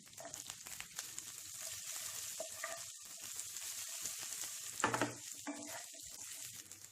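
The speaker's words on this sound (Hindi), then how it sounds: "इन्हें भी सॉटे कर लेते हैं।" Sliced onion and capsicum sauté in a pan. A soft, steady sizzle runs throughout with occasional stirring scrapes, and a louder burst of crackle comes partway through. The sound is fairly faint and no one talks.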